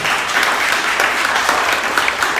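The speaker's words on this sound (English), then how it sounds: "Give them a round of applause one more time" Loud, steady applause from a group gathered for a high school football team event, dense clapping holding at an even level throughout.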